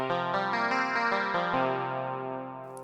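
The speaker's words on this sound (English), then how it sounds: "let's check out the X3 rack, and specifically the Steve Wand preset" Korg X3 rack 'Steve Wand' preset from UVI Synth Anthology 4, a rich chorused and effected synth sound playing a sequence of chords or notes with clear attacks, sustaining and fading toward the end, alone without talk.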